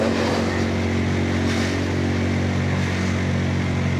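Modenas Dominar 400 motorcycle riding through city traffic, its engine droning steadily and loud throughout with a constant low hum and broadband road and wind noise, no talking.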